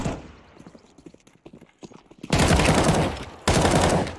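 Counter-Strike 2 gunfire rings out in two loud, dense bursts, a long rattling volley followed by a short second burst after a brief gap, coming after quieter footsteps and scattered in-game noises.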